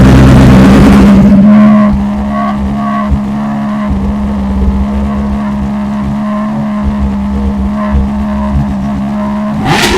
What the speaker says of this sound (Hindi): So now I'm going to turn it on this bike and let's hear the sound of the Akrapovic